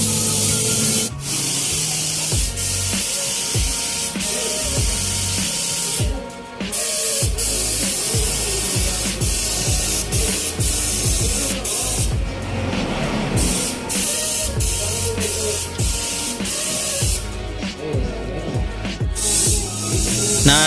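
A spray gun lays light red paint onto the fairings of a Suzuki Raider 150 motorcycle, giving a loud, continuous hiss that runs almost unbroken, with only short dips.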